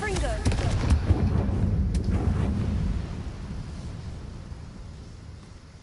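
A Confringo blasting spell explodes in the Hogwarts Legacy video game, a loud booming burst with crackling debris that rumbles on and fades over several seconds.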